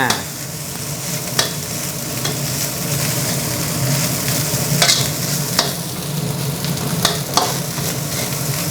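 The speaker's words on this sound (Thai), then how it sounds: "ตัวผัดไฟแรงฉะนั้นมันจะมีติดกระทะบ้างนิดๆหน่อยๆนะครับ" Thai fried rice with dark soy sauce, made with jasmine rice, hisses and sizzles steadily while stir-fried in a wok over high heat, with sharp scraping clinks of the spatula against the pan at intervals.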